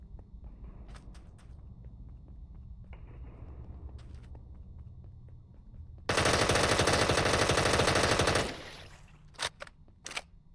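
Rapid automatic gunfire in Minecraft with the KKZ 3.0 update, a dense sustained burst of about two seconds over a steady game backdrop, followed by a few sharp single shots.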